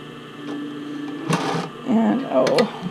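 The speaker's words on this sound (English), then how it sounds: "we're going to stitch the center front together at 1/4 of an inch" A sewing machine stitches the front band of a bra in short bursts, a quick whirring run followed by softer starts and stops, near and fairly loud over a quiet room hum.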